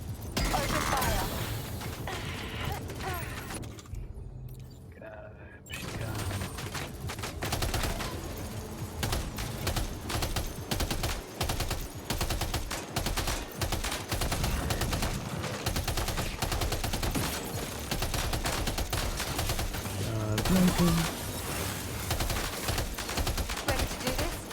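Gunfire in the game Death Stranding 2, dense bursts of rapid shots running almost the whole time, close and fairly loud, with a brief quieter gap early on and a voice talking at times.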